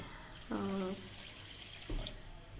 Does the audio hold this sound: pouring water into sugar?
yes